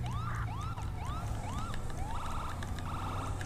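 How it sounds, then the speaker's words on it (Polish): A police siren in a video game wails in rising sweeps, then switches to a rapid yelping warble, heard continuously at a moderate distance over traffic noise. "Fajne syreny."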